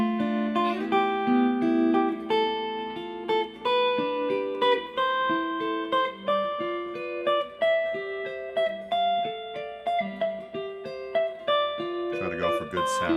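Guitar triads played fingerstyle as arpeggios moving up the neck, each chord picked note by note in a first, third, second, first string pattern; clear, close plucked notes ring in an even, flowing rhythm with no talk.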